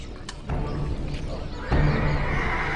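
A horse neighs in a dramatized Roman invasion of Britain scene, with two loud, rough whinnies rising over a noisy background, close and prominent.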